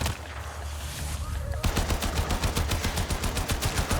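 Automatic gunfire in the video game Warframe, with rapid, evenly spaced shots rattling loudly in the second half after a quieter stretch of ambient game noise.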